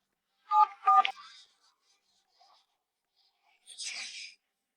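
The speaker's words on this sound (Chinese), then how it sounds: "你等我打完电话就知道了" Two short bursts of telephone keypad dialing tones ring out close and clear as someone dials a call, followed by a brief soft rustle; there is no talk.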